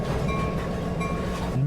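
A big train in a train simulator game pulls away in reverse under power, giving a steady close rumble of engine and rolling wagons with faint squeals and rail clatter throughout.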